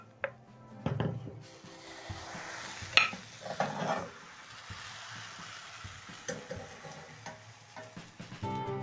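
Butter melting and sizzling in a pan between crepes, a soft, fairly faint hiss with scattered clinks and taps of utensils early on, with no one talking.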